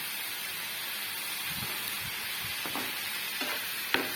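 Keerai poriyal with a coconut-spice mix stirred in a pan over a constant, moderate sizzle, with a few soft spatula scrapes and one sharp tap near the end.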